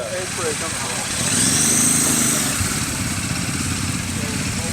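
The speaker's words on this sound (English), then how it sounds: "This is one of the test rides coming back. Nice Himalayan, which apparently has been very popular." A Royal Enfield Himalayan motorcycle returns from a test ride at a dealer demo day, its engine a steady mid-range drone that swells slightly as it nears and then holds. Steady wind and outdoor noise run underneath.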